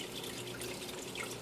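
Water spills over the edge of a tank in a 55-gallon aquarium aquaponics setup, making a steady close trickle and splash with faint dripping and no talking.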